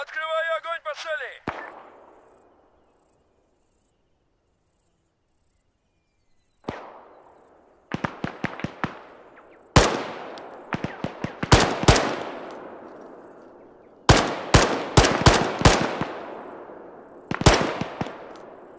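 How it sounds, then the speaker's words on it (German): Gunfire in the military video game ArmA 3: a sharp opening shot, several seconds of quiet, then repeated loud bursts of automatic machine gun fire and single shots echoing, close and dense toward the end. "Открываю огонь по цели!"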